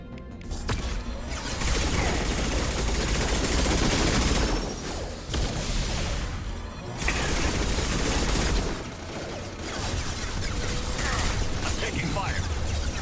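Gunfire in the video game Mass Effect 2, with continuous loud bursts and mechanical clatter of weapons firing, broken by brief lulls, alongside other combat noise.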